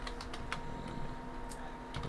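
Quick bursts of key taps on a computer keyboard as a short command is typed, soft and close, in irregular clusters with a faint steady hum beneath.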